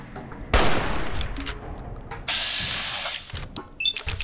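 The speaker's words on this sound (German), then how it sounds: "normaler Schuss auf den Kopf, der macht so ein bisschen was" Gunfire from the video game Fallout: New Vegas: a loud broadband shot burst at the start, followed by further sharp reports and metallic clatter, with game sound effects throughout and no talk.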